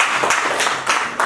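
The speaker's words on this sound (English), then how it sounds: "You clap for literature." A classroom of students clapping for a literature lesson, a steady patter of hand claps with a few louder bursts across a short stretch, with no talk.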